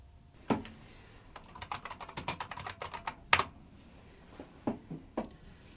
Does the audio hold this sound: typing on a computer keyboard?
yes